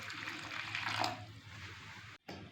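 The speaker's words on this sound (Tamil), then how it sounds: "ஒரு 1/4 டம்ளர் அளவு ஊற்றிக்கிறணும்." Water is poured onto palm jaggery in a cooking pot, a soft close trickle that swells for about a second and fades, followed by a brief silence and a small clink.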